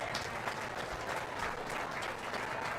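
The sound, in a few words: round of applause for exhibitors at a sheep show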